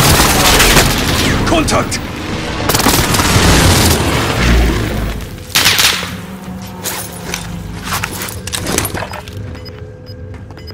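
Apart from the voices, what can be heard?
enemy precision airstrike explosions in Call of Duty Warzone Rebirth video game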